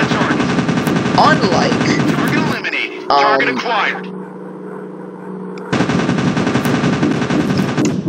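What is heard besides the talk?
AA gun fire in the video game Warplanes WWII Dogfight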